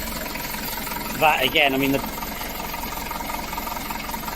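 A Citroen BX engine idles steadily at close range, a rusty car with a worn hydraulic pump; a voice speaks briefly over the even running hum early on.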